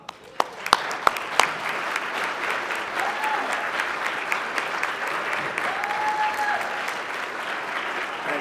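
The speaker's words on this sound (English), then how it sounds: "Can we please have a round of applause for our first honoree, Mary Taylor." Sustained audience applause at a regional Top Cop awards ceremony honoring a civilian award recipient, steady dense clapping for about eight seconds with a few sharp louder claps near the start.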